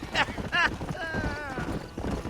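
Horse hooves clip-clopping in Red Dead Redemption, heard as soft rhythmic thuds under a voice with a short whistle-like tone in between.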